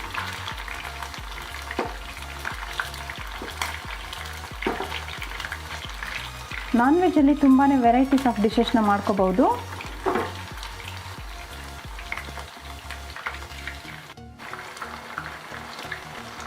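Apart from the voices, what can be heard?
chicken frying in oil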